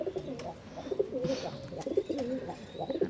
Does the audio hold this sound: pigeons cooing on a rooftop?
yes